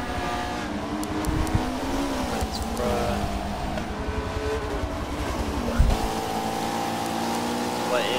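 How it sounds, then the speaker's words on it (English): Race cars roar around the Sebring circuit during a Michelin Pilot Challenge TCR battle, engines droning and shifting pitch at a steady distance, with a commentator's voice over the noise. "What is a battle between what will be the top 3 to 4 after Watts makes his final pit stop?"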